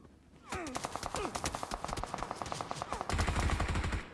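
Automatic gunfire in the mobile battle game PUBG Mobile, with rapid rattling bursts of shots building into a louder sustained volley near the end, close and sharp over faint background.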